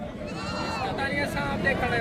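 Goats, including nannies with kids, bleat at a large livestock mandi in Pakistan, several wavering cries overlapping close by above a constant crowd murmur.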